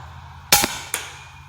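A Hatsan Flashpup .25 air rifle fires a 34 grain FX pellet into ballistics gel at 60 yards: one sharp, loud crack followed about a third of a second later by a fainter second report, with quiet around them.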